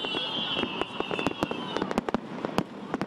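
New Year's Eve fireworks going off early over Canberra, a series of sharp, scattered bangs and crackles at moderate distance, with a whistling rocket rising near the start and crowd noise underneath.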